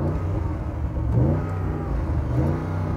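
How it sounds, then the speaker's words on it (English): A close, loud Audi RSQ8 V8 runs under load with repeated revs rising and falling in a deep, continuous growl throughout. "Okay, let's have a listen to the Audi."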